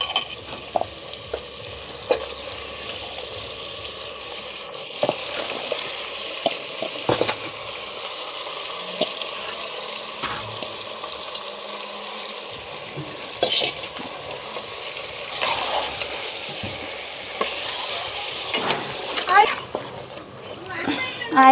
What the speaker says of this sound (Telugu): ఉల్లిపాయలు వేగాక కడిగి పెట్టుకున్న మటన్ వేసుకుందాం.